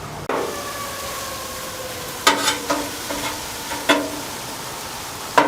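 Turkey and sweet potatoes with onions cook on a griddle, a steady soft sizzle running throughout with a few scrapes and clinks of a utensil against the hot surface.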